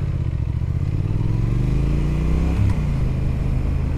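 Exhaust of a 2018 Triumph Thruxton R motorcycle on the road in London: a loud, close, continuous engine rumble whose pitch climbs gradually as the revs rise, with no talk.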